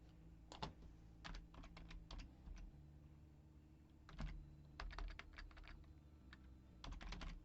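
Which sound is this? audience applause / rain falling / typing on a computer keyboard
typing on a computer keyboard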